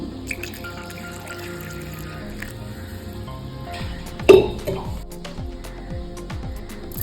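Water pours and drips into a blender jar with carrots and milk for carrot juice, a soft, steady trickle with one brief louder splash midway.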